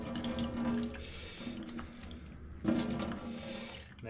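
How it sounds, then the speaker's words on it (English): Whey from homemade mozzarella pours off into a container as a quiet, soft liquid trickle with a few faint splashes, close by and with no one talking. "You can see a load more whey's come out of it, so we're just going to pour that off."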